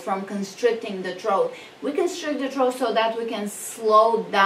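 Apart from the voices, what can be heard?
No everyday noises stand out.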